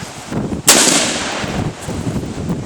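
A 12 gauge shotgun fires once outdoors in cold weather, a loud close blast with a long echoing tail and some wind noise on the microphone.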